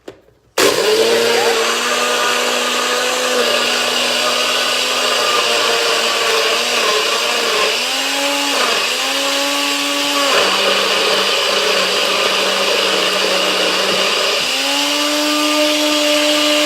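A blender whirs loudly and continuously while blending a pumpkin pie smoothie packed with ice, its motor pitch dropping and surging several times as it strains, after a brief quiet start.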